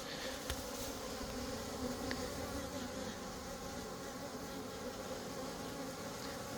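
Honeybees, drones among them, hum around hives in an apiary, a steady, even buzzing that fills the air without pause, with the occasional nearer bee passing close.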